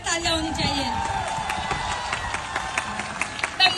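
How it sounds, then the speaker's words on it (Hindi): An indoor audience breaks into applause, a steady dense patter of many hands clapping with some crowd noise mixed in, continuous and fairly close throughout. "सर के लिए जबरदस्त तालियां होनी चाहिए"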